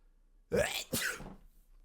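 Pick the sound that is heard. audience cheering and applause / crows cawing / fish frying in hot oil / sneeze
sneeze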